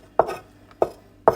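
A knife chops through an onion on a cutting board in three sharp, evenly spaced strokes, each a crisp close thud with a short tail, and quiet between them.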